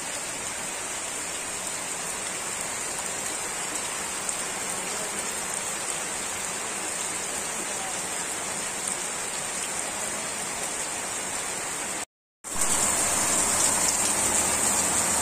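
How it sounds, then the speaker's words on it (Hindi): Heavy rain pouring steadily in a dense hiss, loud and unbroken apart from a brief cut near the end. "बहुत तेज बारिश हो रही"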